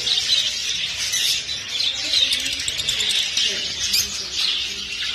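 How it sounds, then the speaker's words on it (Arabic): Small lovebirds, spangle and large varieties, chirp and tweet in a dense, continuous chorus at a bustling Baghdad animal and bird market, with market chatter and voices mixed underneath. "طيور حب سبانجل ومايات كبار."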